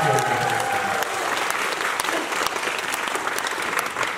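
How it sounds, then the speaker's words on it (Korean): Concert audience at a performance bursts into sustained applause, a dense, loud wash of many hands clapping continuously, with faint crowd murmur underneath. "박수를 좀 더 크게 쳐주시면"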